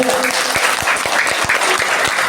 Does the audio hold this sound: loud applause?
yes